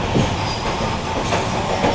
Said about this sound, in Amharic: ጋይስ ባቡር